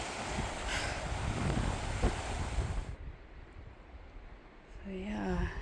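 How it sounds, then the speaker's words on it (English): Strong wind roars into the microphone on the Drummond Creek trail in the Whitehorse Wildlands, Alberta, as heavy buffeting that eases after a few seconds before gusting again. "A wind tunnel."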